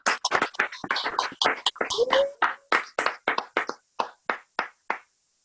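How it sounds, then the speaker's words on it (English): Online meeting participants unmute and clap to celebrate a presenter, producing a run of sharp, separate claps and hand taps that thin out to a few isolated claps before ending. "Let's have a round of applause."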